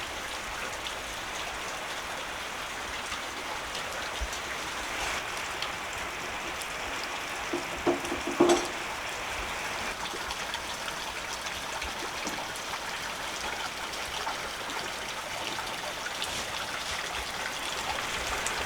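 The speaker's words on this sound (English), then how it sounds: "when it does rain, it rains a lot and very quickly" Heavy rain falls steadily on a house terrace in central Portugal, a dense, even hiss of drops with a brief louder patter partway through, continuous and moderately quiet, with no voices.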